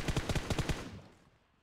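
Rapid automatic gunfire from a weapon in PUBG Mobile on the Erangel map, a quick burst of about seven sharp shots in steady rhythm, fairly close, then trailing off into a fading echo with no voices.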